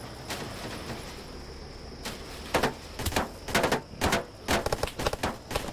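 Gunfire in the video game Black Hawk Rescue Mission 5 comes as sharp single shots and quick automatic bursts. The bursts grow denser and louder toward the end, with no talking.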